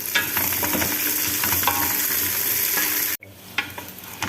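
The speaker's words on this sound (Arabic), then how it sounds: "يلا نضيف البطاطس" Potatoes go into a frying pot with browning onions and are stirred, bringing a loud, crackling sizzle with scrapes that cuts off abruptly near the end, then returns faintly.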